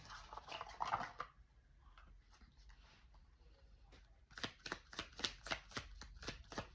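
Oracle advice cards being shuffled, a soft riffle and patter at first, then a quiet lull, then a run of crisp, rhythmic card slaps close to the mic, with no talking.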